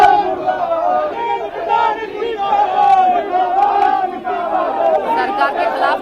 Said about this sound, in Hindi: सरकार के खिलाफ मुर्दाबाद के नारे लगाए जा रहे हैं